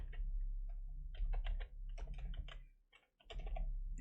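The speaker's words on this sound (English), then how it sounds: "Let's type in another comment." Computer keyboard typing in bursts of quick, close key clicks with short pauses between, over a low steady hum, with no talking.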